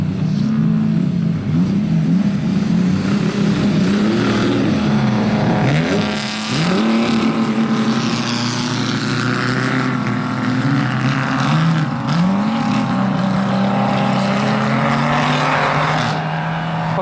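Expensive supercars driving hard on an ice track, engines roaring loudly and continuously with rising and falling revs as they accelerate and shift, close and dominant with no talking.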